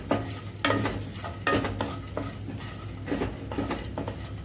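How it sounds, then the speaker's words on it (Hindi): Cumin seeds crackle in about a spoonful of hot oil in a pan over medium heat, with a steady light sizzle broken by sharp metal clinks and scrapes from stirring, close and moderately loud. "और आधा चम्मच जीरा। इसको क्रैकल होने देंगे।"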